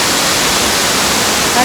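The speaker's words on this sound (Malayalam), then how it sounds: "വാട്ടർഫോൾ" Bushkill Falls in Pennsylvania pours in a steady, close rushing roar of falling water, a dense unbroken hiss that fills the whole moment.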